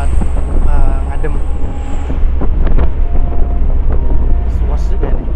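Strong wind roaring through the open sliding windows of a medium-sized non-air-conditioned bus on the road near Sungai Bawang, a loud, steady buffeting rush with engine rumble beneath and people talking over it.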